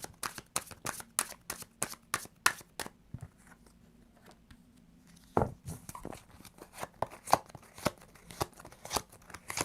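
Tarot cards are shuffled up close in rapid papery riffling bursts, a quick flurry of sharp flicks that pauses briefly before resuming in looser, uneven snaps.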